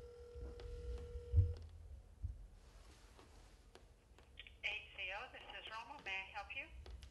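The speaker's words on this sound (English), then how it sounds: "We're going to try to make a quick phone call." A call rings out through a waterproofed Motorola phone that had been underwater for over an hour: steady electronic ringing tones play for about a second and a half, then voices talk over the line.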